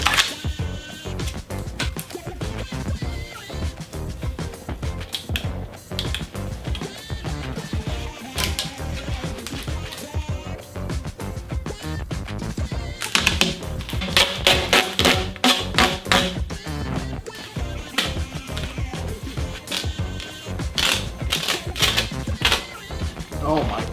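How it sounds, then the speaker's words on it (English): Duct tape is pulled off the roll and torn during a DIY lightsaber build: loud, close, ripping bursts come again and again over a constant cluttered background. "We have to just take some of this duct tape now."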